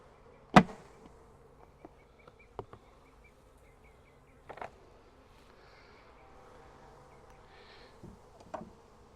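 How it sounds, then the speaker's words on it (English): Honeybees from a May split are shaken out of frames into a new hive box. A faint, steady buzz is broken by a few sharp knocks and thumps as the frames hit the wood. "Just gonna dump a bunch of bees in here."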